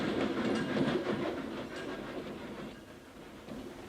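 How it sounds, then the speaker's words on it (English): The Madrid Express rolls along the rails with a steady rumble and clickety-clack, loud at first and easing slightly, with no talk. "The Madrid Express, 20 minutes late."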